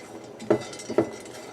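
Two light metallic clinks of a spoon against a pan as cashews, pistachios and almonds are stirred while roasting in ghee, each tap brief and close, spaced about half a second apart over a quiet background.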